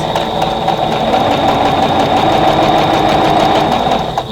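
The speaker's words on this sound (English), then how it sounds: "So I just raise the presser foot, it goes down flat, and then I just keep on sewing" A sewing machine running steadily while chain piecing quilt block pieces, a loud, close, continuous mechanical whir with rapid rhythmic needle clatter from start to finish.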